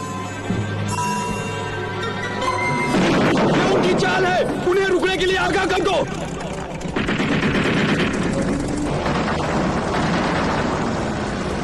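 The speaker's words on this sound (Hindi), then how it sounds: "ये गोलियों की आवाज सुनी?" Sustained automatic gunfire and scattered shots ring out loud and close during a desert battle in an Omar Mukhtar war film, with bursts crackling over a rumbling background that may include aircraft and shouting voices.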